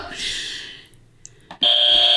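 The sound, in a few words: quiz buzzer sounding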